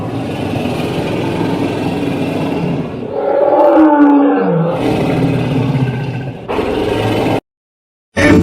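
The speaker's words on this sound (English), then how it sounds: "L for lion." A lion gives a deep, loud roar that swells into a strong rumbling bellow, with breathy grunts and a brief cut of silence before a last burst.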